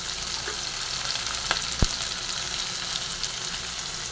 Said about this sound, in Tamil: நல்லா நம்மளுக்கு தக்காளி வெங்காயம் நல்லா வதங்கட்டும்